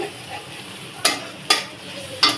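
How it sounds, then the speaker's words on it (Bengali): Shrimp cut with a spatula in a pan during home cooking, three sharp scraping clacks against a soft background sizzle. "চিংড়ি মাছগুলারে খুন্তি দিয়ে কয়টা কাটতেছি।"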